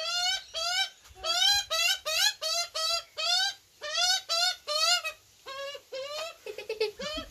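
A magpie calls close by in a quick series of harsh, nasal, chattering squawks. The calls come in rapid bursts with brief gaps between them and are heard clearly on their own, without talking over them.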